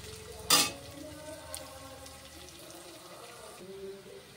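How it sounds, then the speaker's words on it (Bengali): Onion, ginger and garlic frying lightly in a pan for a winter vegetable soup, a soft steady sizzle close by, with a sharp clatter of a utensil near the start and small stirring knocks after it. "এরকম ভাবে ভাজতে হবে, হালকা করে ভাজতে হবে, কাঁচা গন্ধ যাতে না থাকে"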